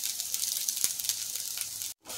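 Leftover cooked rice tempered in hot oil for a village breakfast, a loud continuous sizzle up close with one brief pop, cutting out for a moment near the end.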